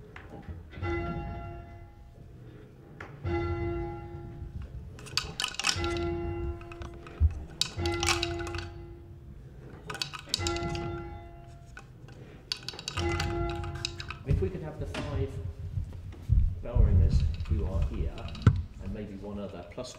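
Church tower bells swung full circle, clapper striking each time the bell reaches the top, ring in a slow succession of clear, resonant strikes with lingering hum, while people talk quietly between them.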